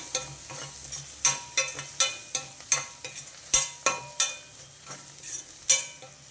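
Onions with turmeric fry in a pan under a soft sizzle, punctuated by a brisk, regular series of sharp spatula strikes against the pan, close and clear with no talking.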